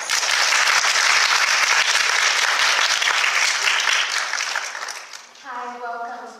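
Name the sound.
audience applause for speaker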